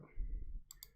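A computer mouse gives two quick, close clicks in a row, quiet and crisp, following a moment of low background hum.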